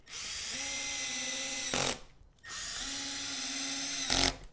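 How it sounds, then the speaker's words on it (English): A power drill whirs steadily in two long bursts while drilling holes in wood, each ending with a brief rough grinding surge, with a short pause between them. "now I'm going to go ahead and drill 2 more holes"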